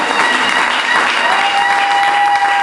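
Church congregation applauding to acclaim Jesus during a gospel service, a steady, dense wash of clapping from a large crowd filling the room, loud and continuous throughout.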